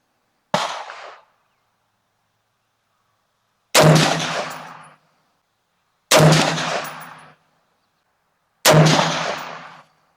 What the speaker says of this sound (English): I'm going to shoot a 3-shot group at that top left target.